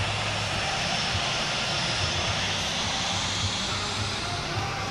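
Airliner from Batik Air taxiing to runway 9 in the Infinite Flight simulator: a steady, continuous jet engine drone with a broad rushing hiss, even and unbroken, no voices.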